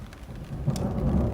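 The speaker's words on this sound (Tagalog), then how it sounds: "naririnig niyo yung kulog" Thunder rumbles low and steady through falling rain, growing slightly louder partway through, with no one talking.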